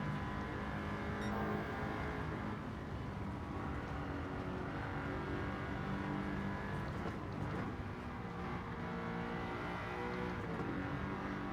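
Audi R8 race car in Gran Turismo 7 on the Tokyo Expressway, its engine droning loud and steady throughout with continuous revving and shifting tones, no pauses.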